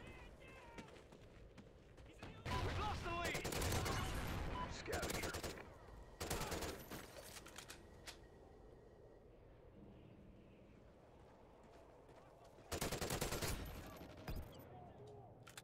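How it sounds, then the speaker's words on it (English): Loud bursts of rapid automatic gunfire from a KEM weapon in a team deathmatch on the Freight map of a shooter game, in three or four separate volleys with quieter gaps, footsteps and someone talking in the pauses. "This gun's insanely powerful"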